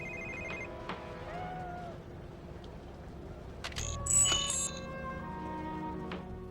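A phone rings inside the Venice level of the video game Quantum of Solace. Electronic ring tones chirp over game ambience, and the loudest burst comes near the middle.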